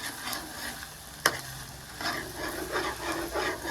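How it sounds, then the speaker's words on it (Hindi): A spoon turns frying onions around in a pot over a fire, steady close sizzling with scraping stirs and one sharp knock against the pot, no talking. "एक मरतबा इसमें चम्मच घुमा लेते हैं।"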